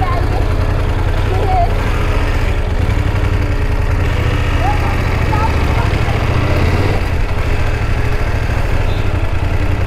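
A BMW motorcycle engine runs steadily with a gear engaged, a loud, continuous mid-pitched drone close by throughout, with faint voices now and then.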